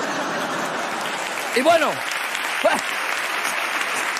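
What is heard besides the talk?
audience applause at a comedy show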